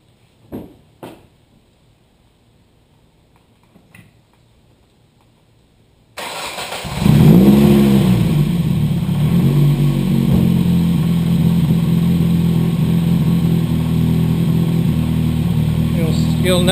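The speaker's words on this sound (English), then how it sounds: "what I'll do is fire it up so you can see it running" Ford Focus rally car with an SVT exhaust header and custom heat shield, cranking and catching to a loud, steady idle after a few quiet clicks, close by, with a brief rev; a person talks faintly.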